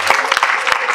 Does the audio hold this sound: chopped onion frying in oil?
no